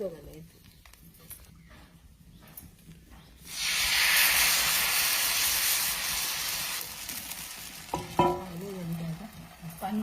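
Ghavane batter made from rice flour hits an oiled pan, flaring into a loud hiss and sizzle that slowly fades, with someone talking quietly before it and clattering utensils afterward.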